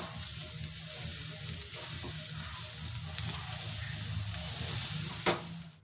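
Spicy puli pitha filling with coriander leaves being stirred and mixed in a hot pan, a steady close sizzle and hiss with occasional scraping clicks of the spoon, no voices.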